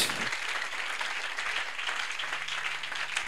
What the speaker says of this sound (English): Can we clap for the Lord?